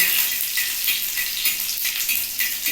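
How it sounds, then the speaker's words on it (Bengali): Garlic fries in oil on a flat griddle, a close, steady crackling sizzle that swells and dips slightly as it cooks. "রসুনটাকে বেশি ভাজার কোনো দরকার নেই"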